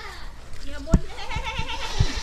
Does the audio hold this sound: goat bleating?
yes